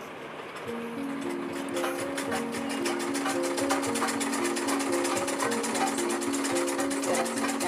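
A sewing machine stitches the back neck of a padded blouse, running as a steady loud whir with a fast ticking needle rhythm that holds without pause for several seconds.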